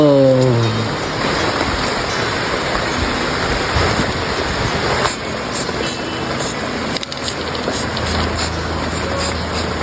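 Heavy rain pouring steadily onto a treehouse roof, a dense continuous hiss and patter with little wind, close and loud throughout.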